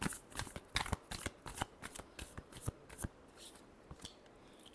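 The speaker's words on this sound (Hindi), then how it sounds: "चलिए देखते हैं लास्ट शफल।" Tarot cards are shuffled in a quick, close series of soft riffling flicks and slaps, quiet and alone without any voice.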